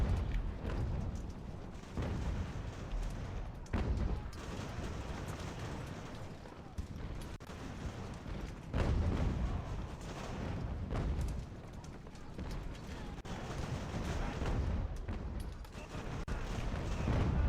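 Captured cannons and artillery firing in a naval-era battle in the game Ultimate Admiral: Age of Sail, with steady rumbling booms and repeated heavy blasts forming a dense, continuous roar of gunfire.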